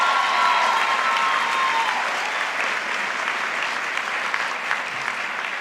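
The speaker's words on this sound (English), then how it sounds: "Let's take a moment to acknowledge everyone here and afar who love and support us with a round of applause." Steady, sustained applause from a large crowd at a university winter commencement ceremony, loud and dense throughout, slowly easing off toward the end.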